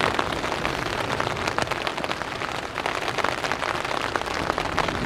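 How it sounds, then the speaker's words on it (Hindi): Rain falls steadily outside a tent during group camping in a deep forest, a constant close hiss of drops pattering on the fabric and surroundings, loud and unbroken, with no one talking. "वैसे तो बारिश का साउंड ही काफ़ी है"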